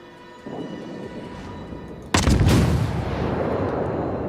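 Warship main battery guns firing shells in the naval game World of Warships: one heavy, booming salvo erupts suddenly, then rolls into a long, loud rumbling tail after a short stretch of low background noise.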